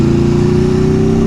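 A 2022 Aprilia RSV4 motorcycle fitted with an Austin Racing exhaust running after start-up, a very loud, close, steady rumbling engine with a harsh, pulsing throb and no voices.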